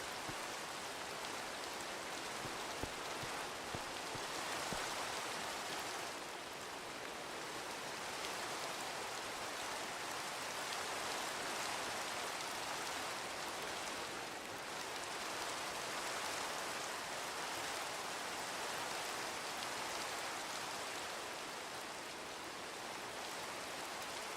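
Steady rain falls throughout the Katha Village video game, a dense, even hiss of downpour that holds constant with slight swells and no voices.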